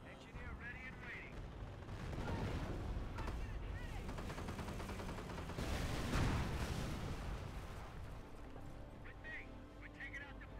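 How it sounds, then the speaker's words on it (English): Artillery barrage in the Company of Heroes video game, dense rolling booms and gunfire crackling across the whole stretch with heavier blasts in the middle, loud and continuous, with game voice clips briefly heard over it. "instead it's tried to set up an artillery barrage for me"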